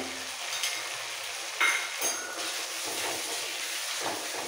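Prawn paste being sautéed with spices in a pan for a potol chingri dish, giving a steady, close sizzle and frying hiss with a few brief scraping stirs, no talking.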